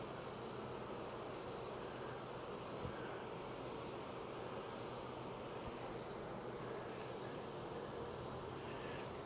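Honey bees from newly purchased hives buzz in a faint, continuous drone close by, a soft steady hum with no talk over it.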